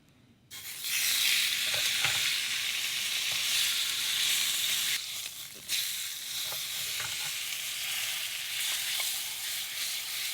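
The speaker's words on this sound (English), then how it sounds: "if you guys can hear me over this sizzling" Food sizzles and fries steadily on a small portable single-burner stove, a constant loud crackling hiss with light clicks of stirring, close by and with no talking.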